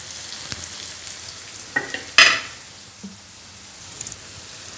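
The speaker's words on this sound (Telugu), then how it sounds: "చూసారా ఎలా టమాటో ఆనియన్ అంతా వేగిపోయిందో?" Tomato and onion frying in a pan for egg masala curry, a soft continuous sizzle with a couple of sharp spatula scrapes and one louder burst of hissing midway.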